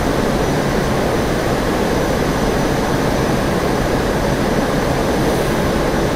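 Simulated Northrop F-5E jet in flight south of Las Vegas, a steady broadband engine roar with wind rush, loud and continuous throughout with no talking.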